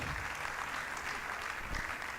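Audience applause at a Delta State small-business summit session, a steady wash of clapping from a crowd filling the whole stretch without any speech over it.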